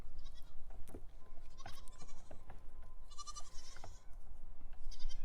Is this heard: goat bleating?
yes